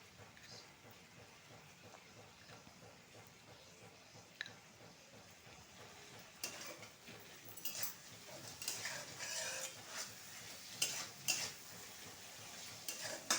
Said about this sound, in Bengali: এবার টমাটোটাও দিয়ে লবণ দিয়ে ভেজে নেব।